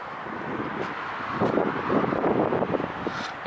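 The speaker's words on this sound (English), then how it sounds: "I just realised it's windy, so you might not be able to hear me very clearly" Wind buffets the microphone outdoors in Iceland beside a campervan, producing a low, rumbling roar that swells louder midway and stays uneven throughout.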